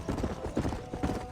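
Horse hooves clip-clopping in Red Dead Redemption on the Nintendo Switch, a quick steady rhythm of close, distinct hoofbeats in a brief burst with no talk.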